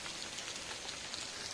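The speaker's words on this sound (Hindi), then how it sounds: "लगभग हमारे उत्तराखंड में बारिश करे हैं।" Steady rain falls in Uttarakhand, a dense, continuous hiss of drops hitting surfaces with no pauses and no voices.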